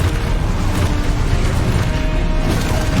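In Hogwarts Legacy, the Deposo spell lands with a loud, dense burst of booming, crashing impact noise that fills the whole moment.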